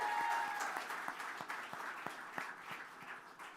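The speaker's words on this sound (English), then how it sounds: "That deserves a round of applause." An audience at a Hispanic Serving Institute celebration at NJIT breaks into applause, with dense, sustained clapping that includes sharp individual claps and slowly thins toward the end.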